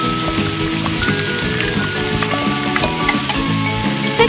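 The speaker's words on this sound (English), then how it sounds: "Stir everything together." Clams stir-fry in a pan with soy sauce and seasonings for a Thai-style dish, a loud continuous sizzle with rain-like crackle under repeated scraping and clattering stirs.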